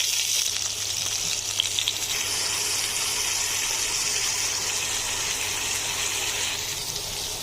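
Salted, turmeric-coated pointed gourd pieces frying in ghee in a pan, a dense steady sizzle close up that lasts throughout with no speech.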